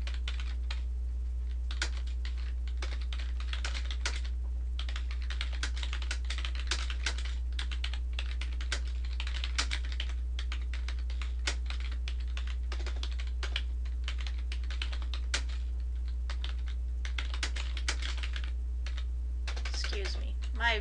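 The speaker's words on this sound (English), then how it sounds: "my typing today could be better." Continuous typing on a computer keyboard: quick, uneven clusters of key clicks run close-up for about twenty seconds over a steady low electrical hum, with no speech.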